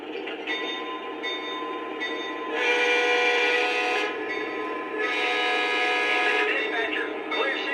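A Lionel L&N U28C diesel model locomotive throttles up, its steady motor hum swelling twice into louder, horn-like tones.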